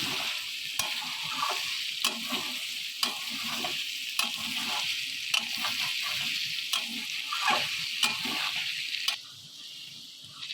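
Fried rice is stirred in a frying pan over heat, a constant close sizzle broken by regular scraping strokes of the spatula roughly every second, with the frying quieting near the end.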